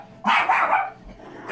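A dog lets out one loud, close bark that trails into a brief growl and then falls quiet.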